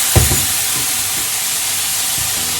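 Kabayaki sauce heats in a pan after sardines are pulled out, giving a loud, steady sizzling hiss that carries on evenly throughout, with a couple of low clunks near the start and no talk.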